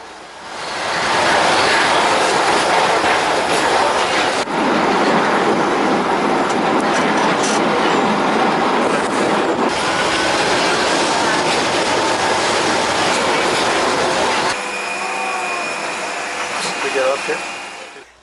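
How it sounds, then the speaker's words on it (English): An open trolley tram lurches along cobblestone streets in Santa Teresa, Rio, a loud, steady rumbling and rattling roar close by that drops away near the end. "the venerable open trolleys that lurch from the cathedral to the hilly cobblestone Santa Teresa neighborhood"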